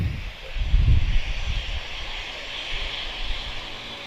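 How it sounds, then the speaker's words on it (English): A TAP Express Embraer E190 long-range jet at Lisbon Airport produces a steady, distant engine roar with a broad hiss and some low wind rumble, heard alone. "Embraer E190 long range, she's off to Barcelona"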